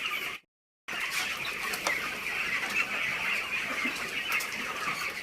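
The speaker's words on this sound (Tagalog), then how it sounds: "So ayan, manok. 45 days." Chickens at a poultry farm, 45-day-old birds, produce a steady dense chorus of clucking and chirping, close and continuous, after a brief dropout near the start.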